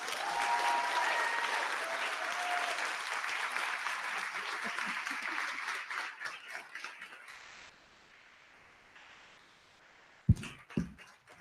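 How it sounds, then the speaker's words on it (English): Audience applause at a school board meeting, loud clapping that gradually thins and fades out, followed by a quieter stretch and a few sharp bumps or thuds near the end. "Another round of applause for Ms. Coco."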